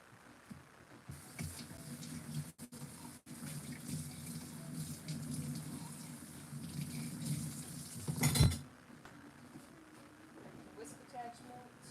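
Tap water runs steadily into a kitchen sink while a bowl is rinsed and scrubbed, with dishes clinking and a short louder splash near the end, under a woman's speech.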